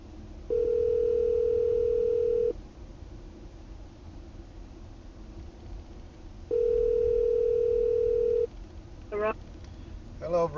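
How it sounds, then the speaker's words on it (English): A landline call placed through Zjinnova CarPlay in an Audi A8L: two long, steady calling tones separated by a pause, played over the car's speakers above a low cabin road hum, with a short voice near the end. "At office, landline is being dialed."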